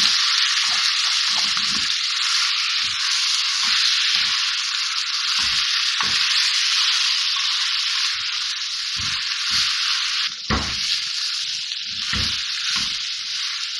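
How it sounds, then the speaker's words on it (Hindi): Minced meat (keema) sizzling with golden fried onions in a pan, a loud steady frying hiss throughout, broken by repeated scraping stirs of a spoon against the pan. "कीमा डालने के बाद मिक्स करने के बाद इसकी 3 से 4 मिनट भुनाई करनी है।"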